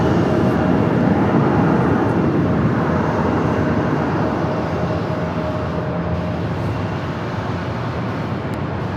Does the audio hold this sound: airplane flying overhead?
yes